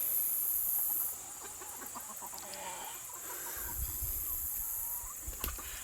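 Chickens cluck softly and intermittently in the distance over a steady background hiss, with a few faint scattered thumps.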